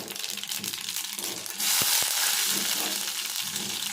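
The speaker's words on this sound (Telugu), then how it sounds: "ఆయిల్ పోసిన తర్వాత ఆవాలు, తర్వాత మిర్చి" Mustard seeds and chillies frying in hot oil for a Telugu pakodi pulusu, a steady crackling sizzle that jumps louder midway with a couple of sharp pops, close and continuous with no talk.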